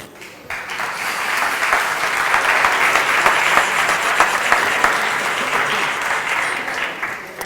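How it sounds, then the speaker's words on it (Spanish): An audience at a talk on everyday mathematics claps for a volunteer called up from the crowd, a loud, sustained wash of applause that holds steady for several seconds before easing slightly. "Le damos un aplauso."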